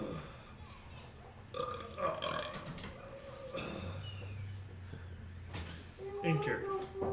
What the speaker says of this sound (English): He burped instead of character.